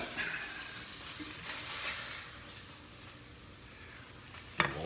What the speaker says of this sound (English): I just want it seared.